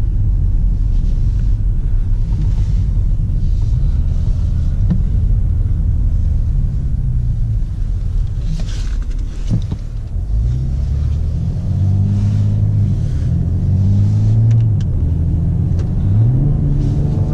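A BMW X5 M50d SUV with its diesel engine drives along, a steady low cabin rumble with road and wind noise, the engine note rising and shifting through gear changes later on.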